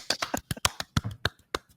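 About a dozen quiet, close hand claps in an uneven burst, sharp separate slaps with brief gaps, faint and alone.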